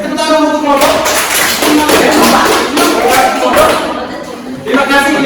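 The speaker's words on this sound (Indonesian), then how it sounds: "Tepuk tangan untuk kelompok." Loud, dense applause fills a classroom as students clap for a group, a continuous wash of hands mixed with lively chatter and voices throughout.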